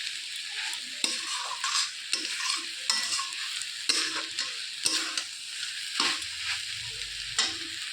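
Water spinach with shrimp fries in a pan with a bright, steady sizzle, punctuated by rhythmic stirring scrapes and light knocks of the spatula, close up and without voices.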